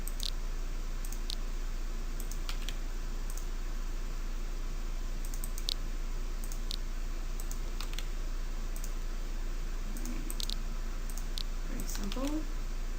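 A computer mouse clicks repeatedly at a desk, with scattered sharp taps spaced through a steady electrical hum and background hiss. A person speaks faintly and briefly near the end.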